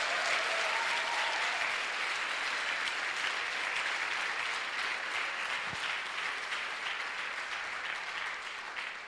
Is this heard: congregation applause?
yes